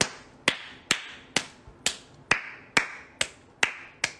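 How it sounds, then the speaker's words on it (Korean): Hand claps from someone eating pineapple cake: about nine sharp, evenly spaced claps at a steady pace, close and crisp, with brief gaps of quiet between them. "이러면서 막 박수 엄청 치는데"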